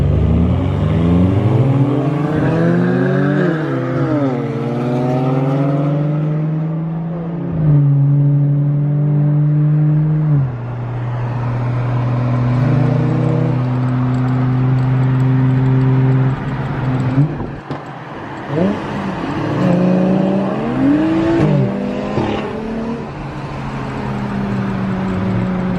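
A Ford F-series truck engine fitted with a Precision Racework ignition kit revs up and settles back in repeated, loud, close throttle blips, its deep exhaust note rising and falling steadily throughout.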